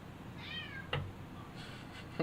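A pet cat gives one short falling meow indoors over steady background hiss, followed by a couple of sharp knocks or clicks nearby.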